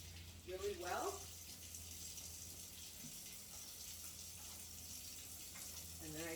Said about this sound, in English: Rinse off my hands first really well.